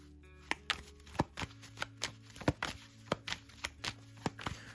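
Oracle cards are shuffled by hand for a tarot reading, a quick run of about a dozen crisp, close riffling snaps in an irregular rhythm, with no talk.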